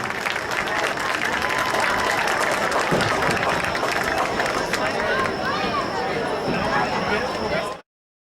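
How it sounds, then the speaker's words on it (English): Stadium crowd at a Loyola high school football game applauds and cheers the three newest Hall of Honor inductees, a loud steady roar of clapping and voices with chatter mixed in, ending abruptly. "send a round of applause for our 3 newest members of the Loyola Hall of Honor"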